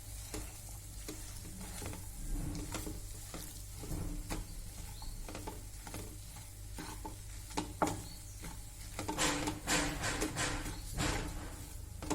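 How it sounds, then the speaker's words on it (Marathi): A potato mixture for veg cutlets, made with mashed potatoes and bread, is stirred and mixed in a pan, with steady scraping and patting strokes up close and a faint sizzle beneath. The strokes fall in an irregular rhythm and no one speaks. "छान मिक्स करून घेऊया"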